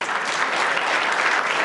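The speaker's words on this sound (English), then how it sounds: "Let's give Rabbi Frand another round of applause, please." An audience applauds after a lecture, a dense, steady burst of clapping from a crowded room that fills the short moment without pause.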